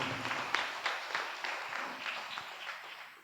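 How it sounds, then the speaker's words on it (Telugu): Audience applause in a church during a golden jubilee Mass, a steady wash of many hands clapping at moderate volume with no talk over it. "గట్టిగా చప్పట్లు కొట్టి వారికి అభినందనలు తెలియచేద్దాం"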